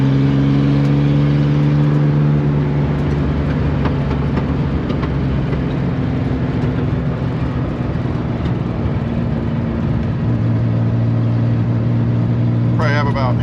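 A Chevrolet Corvair driving on the road, its engine giving a loud, steady droning hum from inside the car with a slight shift in pitch partway through and faint road noise.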